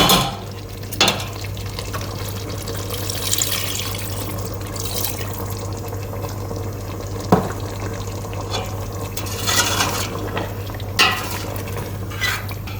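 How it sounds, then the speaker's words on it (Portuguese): Fumbwa simmering in a pot with extra water added over low heat in a home kitchen, a steady low bubbling hum with occasional clinks of utensil against the pan and stirring scrapes, no talking. "E agora eu vou pôr um pouquinho mais d'água e vou deixar ferver bem."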